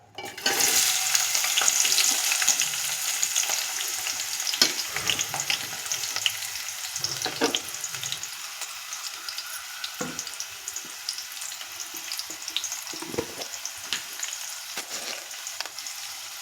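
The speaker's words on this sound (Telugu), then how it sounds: "ఇప్పుడు కట్ చేసి పక్కన పెట్టుకున్న ఉల్లిపాయ పచ్చిమిర్చి ఇందులో వేస్తున్నాను" Chopped onions and green chillies sizzle in hot oil for a prawn pakoda curry, an instant burst of frying that settles into a steady crackle with occasional stirring clinks.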